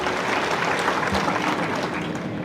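A crowd at a political gathering applauds to welcome Jayant Patil, dense continuous clapping at a steady loud level throughout, with no voices over it.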